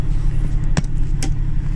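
A fire truck engine idles steadily up close, a constant low rumble with two brief clicks or knocks in the middle.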